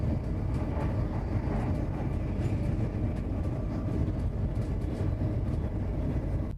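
Inside a moving train, heard from within the onboard bathroom on a rainy countryside run: a loud, steady, low rumble with faint rhythmic clatter throughout.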